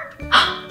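During a children's storybook reading, a single short bark is voiced by a person imitating a puppy.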